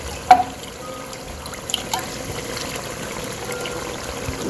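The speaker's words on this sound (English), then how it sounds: "I'm going to rinse it with a little bit of water and add it to it." A little water is poured into a pan to rinse canned mackerel in tomato sauce, making a soft splash near the start and then a faint, steady trickle and liquid movement in a quiet kitchen.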